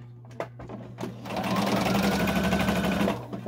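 A sewing machine stitches a tight zigzag on a fabric face mask, starting with a few short clicks and bursts before settling into a continuous rapid whirring run that then stops.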